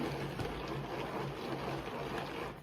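An electric mixer runs at speed 2, beating cake batter for a raspberry moelleux with a white chocolate centre, giving a steady, even motor hum with no break and no voices.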